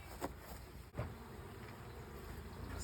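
Faint, steady buzzing of honey bees around a hive, with a couple of brief louder passes close by.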